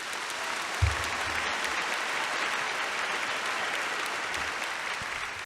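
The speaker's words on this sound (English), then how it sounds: "Applause." Applause sound effect played through a Logitech G Yeti GX microphone, a full crowd clapping steadily and evenly for several seconds before cutting off, with a soft thump near the start.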